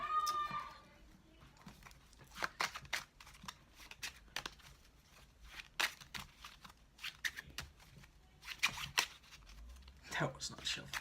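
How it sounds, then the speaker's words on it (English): Several quick crisp bursts of playing cards being riffle shuffled, close up, separated by short pauses and light handling noises. "I'm gonna go ahead and give it some riffle shuffles even"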